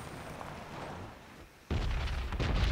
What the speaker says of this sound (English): There's the explosions. Boom.